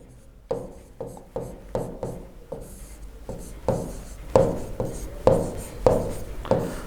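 Marker or chalk strokes writing out a quadratic polynomial on a board during a class 10 maths lesson, a steady run of short scratchy strokes and taps, close and fairly loud with no talking.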